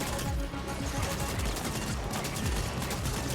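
A mech-mounted minigun in the cyberpunk shooter The Ascent fires a sustained, rapid stream of shots, loud and close, with a steady rattling rhythm for several seconds.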